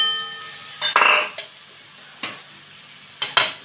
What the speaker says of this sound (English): Now let's add the chopped calamari, chopped squids.